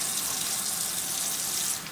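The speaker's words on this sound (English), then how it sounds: "you'll dampen your brush a little bit like that, take out some excess water, just dip it in" Tap water runs steadily over a makeup brush as it is dampened at a sink, a constant broadband hiss with no talk.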